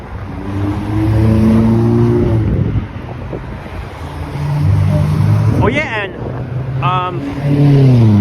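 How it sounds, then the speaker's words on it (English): Loud red Chevrolet revving and roaring past on a Toronto street near Oakwood Station, engine swelling and fading with wind noise, while someone talks close to the microphone. "wow, that was a loud Chevrolet, the red car."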